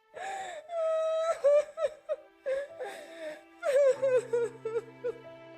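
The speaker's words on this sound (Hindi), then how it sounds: "अगली सुबह राघव को अपने दरवाजे के बाहर किसी के रोने की आवाज सुनाई दे रही होती है।" A person cries and wails in drawn-out, wavering sobs with gasping breaths between, fairly close and clear, with no other sounds around.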